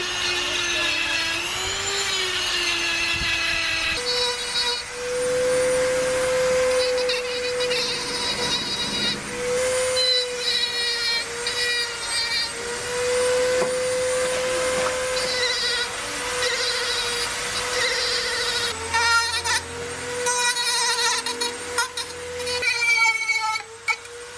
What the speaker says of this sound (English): So I'll be using the sanding drum to add the defects to this